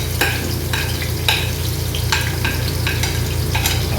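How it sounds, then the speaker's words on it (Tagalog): Garlic hits hot oil in a large caldero for homemade pancit bam-i, crackling in a loud, continuous sizzle broken by regular stirring scrapes over a low hum. "mainit na itong mantika natin. Ilagay na natin yung bawang natin"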